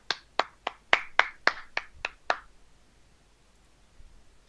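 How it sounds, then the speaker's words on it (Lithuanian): Nine quick hand claps in an uneven burst, close and sharp, followed by quiet room tone. "Ir plojimai čia."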